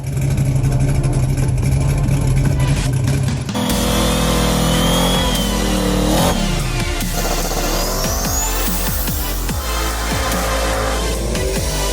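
A procharged Chevy Nova street car engine rumbles at idle, then revs up loudly with rising and falling pitch sweeps, close and strong throughout, no talking.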